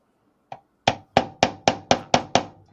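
Hammer blows fitting pieces together: one lighter tap, then a steady run of seven loud, evenly spaced strikes close by, each sharp and ringing briefly.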